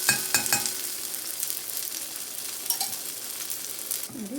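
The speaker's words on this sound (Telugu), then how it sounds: "చూడండి చక్కగా ఈ విధంగా గోల్డెన్ బ్రౌన్ కలర్ వచ్చే వరకు ఫ్రై చేసుకోవాలన్నమాట." Banana ada fries in ghee in a pan, giving a steady, close sizzle with a few sharp clinks of a utensil early on and a scrape near the end, with no talking.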